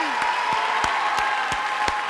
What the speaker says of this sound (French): sous les applaudissements de la foule qui est ici et qui vous souhaite également un joyeux Noël